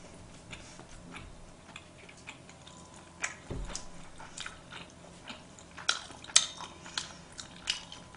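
Sushi being chewed and bitten during a mukbang eating session: soft, irregular wet clicks and smacks close to the mic, growing a little sharper and louder toward the end, with no talking.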